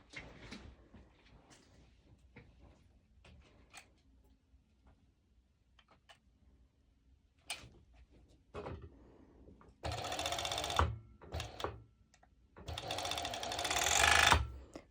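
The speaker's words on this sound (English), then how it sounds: "I'm going to stitch the sides, the two sides, with a zigzag stitch or an overlocker" A sewing machine zigzag-stitches the side seams of a swim skort: quiet clicks and fabric handling first, then two loud bursts of rapid machine stitching near the end.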